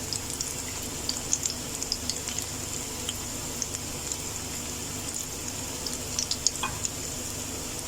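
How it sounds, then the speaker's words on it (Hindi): Green banana kofta balls fry in hot oil until golden, giving a continuous close sizzle peppered with small pops and crackles, with no talk. "तो इसे गोल्डन कलर आने तक इसको फ्राई करना है।"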